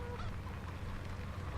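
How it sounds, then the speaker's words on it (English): Chickens clucking in a small coop in the video game Farming Simulator 17, a steady run of honking, squawking fowl calls close by with no talk. "As you can see, we do have a small chicken coop."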